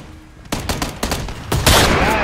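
Gunfire in PUBG, including a shotgun: about five loud, sharp shots in quick irregular succession, close and punchy, with a dense final blast that rings out.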